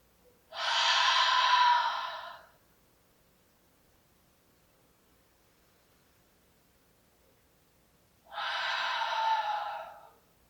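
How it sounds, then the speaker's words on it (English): Deep breaths during a beginner yoga class, two long, airy inhales or exhales several seconds apart, each lasting about two seconds, close and clear against a quiet room. "Take the biggest breaths you have today."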